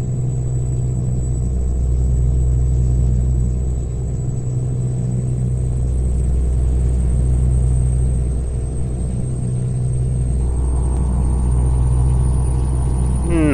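A loud, steady Volvo VNL truck engine in Euro Truck Simulator 2 drones throughout with deep low rumble and constant idling hum, no voices, with a slight pitch rise near the end.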